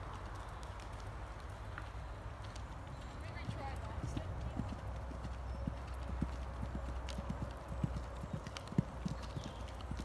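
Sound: horse hooves clip-clopping on a jumping course

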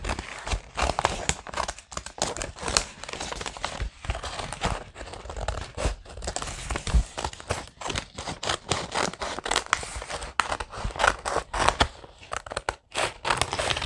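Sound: scissors cutting material for a rocking horse

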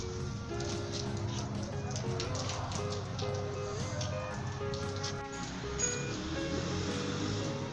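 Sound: winter rain

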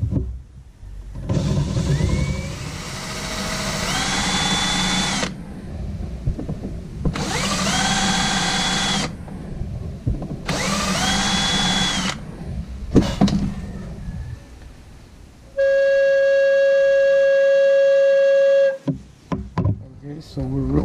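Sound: step drill bit boring PVC pipe

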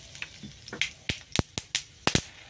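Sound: whole spices crackling in hot oil

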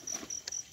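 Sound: rock crickets chirping

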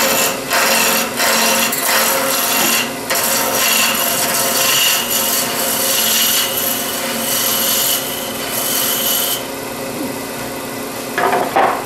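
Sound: roughing out a wooden acorn ornament on a lathe

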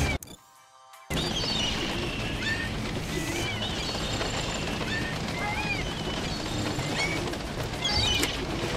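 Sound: pigeons flying and cooing in the video game Postal 4

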